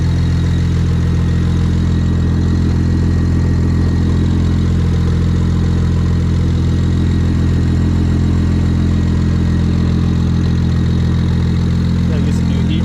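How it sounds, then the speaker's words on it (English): A turbocharged BMW 335i idles steadily in a garage, a constant low engine rumble with a deep droning hum that holds unchanged and fairly loud throughout, no voices over it. "Right now the car is just running straight from the turbo, but it's been idling for a minute."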